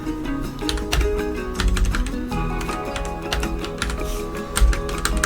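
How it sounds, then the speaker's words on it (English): Computer keyboard typing, a fast close run of crisp clicking keystrokes with a few louder taps, steady throughout with no talking. "It should work if I type in sci-fi."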